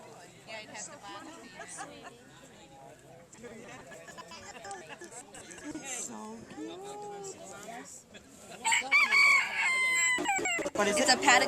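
Chickens cluck and chatter close by, with a rooster-like call and a burst of louder squawking near the end.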